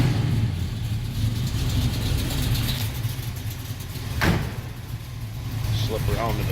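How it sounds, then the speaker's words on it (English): A 1972 Chevrolet Nova SS tribute with a 383 stroker V8 and automatic transmission idles with a steady, loud low rumble, broken briefly by a sharp click midway. "Here at idle. It's a 1972 Chevrolet Nova SS Tribute."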